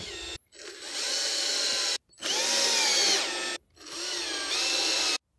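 Cordless power drill driving screws into a pool skimmer on a frame pool, three whirring bursts separated by short pauses, close and clear with no talk.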